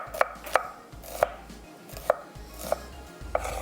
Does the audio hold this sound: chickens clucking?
no